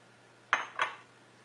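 A cooking pot and spoon clink as khoya is added to roasted golden besan for halwa: two quick, bright metallic knocks about a third of a second apart, each ringing out briefly over a quiet background.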